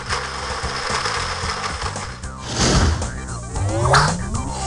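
Game-show blender sound effect from the You Don't Know Jack video game, a whirring, grinding burst of crunching and churning that swells midway and again near the end over a busy backing of music and effects.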